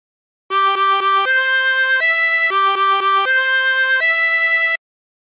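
A 16-hole tremolo harmonica plays the La Cucaracha phrase: a bright run of repeated short notes stepping up in pitch, with a shimmering tremolo tone, clear and close, no talk.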